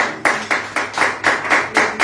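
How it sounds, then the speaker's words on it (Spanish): Steady, rhythmic clapping from a church congregation, about four claps per second in unison, moderately loud with no talk over it. "Denle un aplauso."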